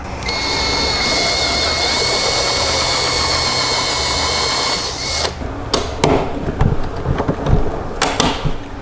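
A power drill bores a half-inch hole through a motorcycle tour pack, a loud steady whine for about five seconds that stops abruptly, followed by scattered clatter and handling knocks.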